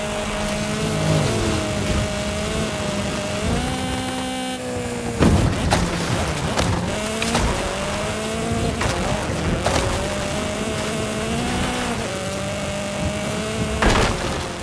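Audi RS6 engine in a racing video game, a steady, loud drone with rising and falling pitch as it shifts through gears, with a few sharp bursts and tire noise mixed in over the continuous roar.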